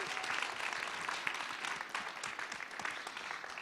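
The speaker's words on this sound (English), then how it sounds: "Let's give her a round of applause." Audience applause at a university event welcoming the president, a steady dense wash of clapping that holds at even loudness throughout without voices.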